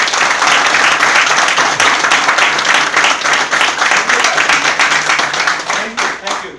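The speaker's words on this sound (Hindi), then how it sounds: "एक बार ताली बजा के फोकस चाहिए होगा" Audience at an LIC agents' training session clapping together in loud, dense applause that runs steadily for several seconds before thinning out into a few last claps.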